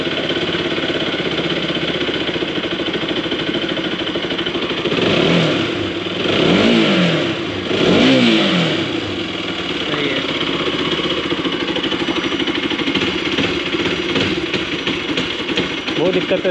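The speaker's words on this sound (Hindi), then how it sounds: "ये देखो बॉश की मोटर," A Bosch fuel pump motor, fitted in place of an old pump, runs with a steady buzzing whir that rises in a few surges, close and constant throughout.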